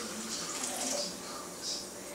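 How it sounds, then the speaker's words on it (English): Warm water at about 110 degrees, two cups of it, is poured into a mixing bowl for homemade barley bread, a soft hissing trickle with splashy swells, faint and continuous, with no talk. "2 cups of water. I'm going to put it here into our mixing bowl."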